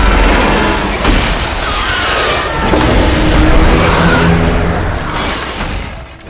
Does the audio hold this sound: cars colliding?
yes